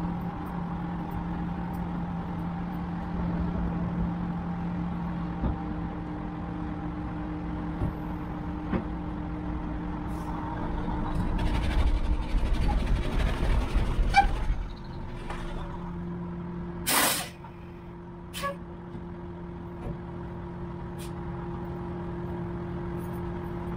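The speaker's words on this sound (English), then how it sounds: "Now I'm gonna get in the truck, and I'm gonna reverse onto the tandem." A semi truck reverses onto its trailer tandem with a low, steady diesel hum. A louder rumbling swell builds midway, and a sharp hiss or clunk follows later before the engine settles back to idle.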